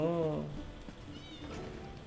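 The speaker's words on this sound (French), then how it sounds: "le petit félin tout mimi" A cat in The Elder Scrolls Online gives a short, close meow at the start, then a faint background murmur with what sounds like quiet voices follows.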